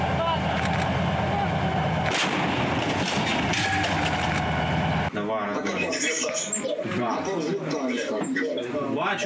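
Ukrainian artillery firing on enemy positions near Bakhmut, Donetsk region, with heavy booming blasts and rumble through the first half, followed by people talking.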